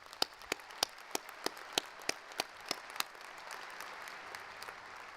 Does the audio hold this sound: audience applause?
yes